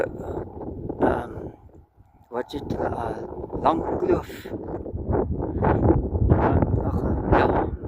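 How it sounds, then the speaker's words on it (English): Wind blows outdoors on a mountain drive in the Langkloof, Eastern Cape, with steady buffeting against the microphone throughout while people talk over it. "It's windy outside."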